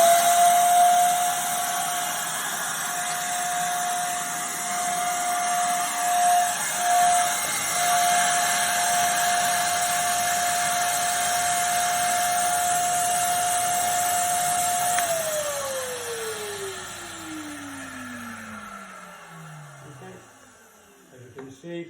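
Kärcher WD 2 Plus wet and dry vacuum cleaner, malfunctioning and smoking from the back, runs with a steady loud hissing motor whine and a sustained tone that winds down and falls in pitch near the end.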